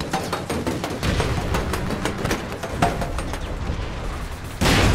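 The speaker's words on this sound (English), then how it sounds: "Grenade." Gunfire and booms in an APB Reloaded shootout, with a sudden loud grenade blast erupting near the end, close by.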